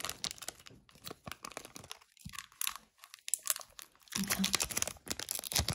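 A Pokémon card booster pack wrapper being opened, with loud close crinkling and tearing of the foil, a short quiet gap midway, then more vigorous crumpling.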